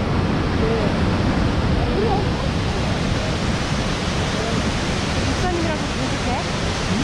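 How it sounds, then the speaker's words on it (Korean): Steady, broadband rushing of a waterfall at Mount Baker, continuous and fairly loud throughout, with faint voices in the background. "저거는 폭포."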